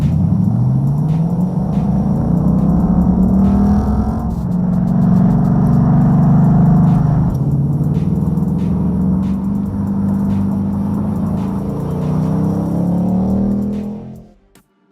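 A Ford Mustang Bullitt V8 engine rumbles loudly and steadily, revving up and down in long swells with a deep throaty tone before cutting off abruptly at the end, with no voices.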